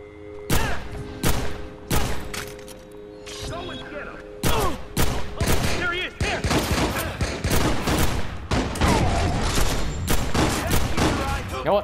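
Pistol shots in Watch Dogs crack out loud and close, first as separate shots and then in quick, dense bursts, while someone talks excitedly under and between them.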